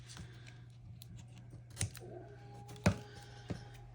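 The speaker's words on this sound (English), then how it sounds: "And then I'm going to trim off the edges." Scissors trimming the edges of a paper planner page during a craft project, with a few sharp snips spaced out over a quiet room hum.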